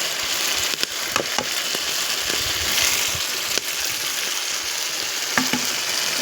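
Paneer curry cooks in a pan with a steady, loud sizzle and bubbling hiss, broken by a few soft clinks and stirring scrapes.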